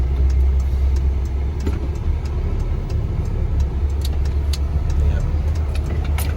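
The 2022 UD Trucks Croner PKE250HP truck engine rumbles low and steady as it pulls, while someone talks over the drone.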